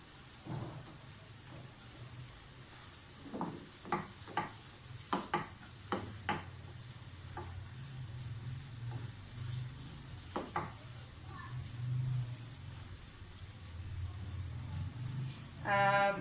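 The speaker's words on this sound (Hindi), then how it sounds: "उस वक्त तक सूजी को भूनें जब तक कि इसकी खुशबू ना आना शुरू हो जाए।" Semolina roasting in ghee in a pan over a medium-low flame, a quiet sizzle broken by irregular spoon scrapes and taps against the pan, ending in a short rapid rattle.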